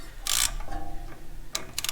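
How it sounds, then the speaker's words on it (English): A wrench loosens a jam nut while a Terra King material collection system is being installed, giving two short bright metallic clicks or scrapes followed later by a quick cluster of ratcheting ticks, close and fairly loud. "I'm going to loosen my jam nut."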